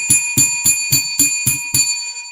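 A bell rings loud and close seven times in a quick, even rhythm, each strike leaving a bright metallic ring that lingers and fades after the last hit.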